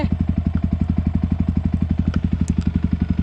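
Yamaha WR155R dirt bike fitted with a TKD exhaust, ridden in a forest; a steady, loud, rapid single-cylinder engine thump pulses evenly throughout, with a few faint clicks above it.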